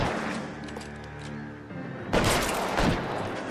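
Gunfire in the L.A. Noire video game: a shot rings out amid a tense, droning game score, then a heavier burst of sharp gunshots cracks loudly near the end.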